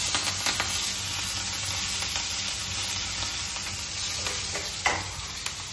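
Green chillies hit hot tempering oil with whole spices, a dense steady sizzle and crackle with a few sharper pops, close and loud without talk.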